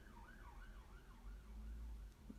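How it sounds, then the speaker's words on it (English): A wailing siren rises and falls in steady sweeps, somewhat distant, over low rumbling traffic noise. "There's a siren coming."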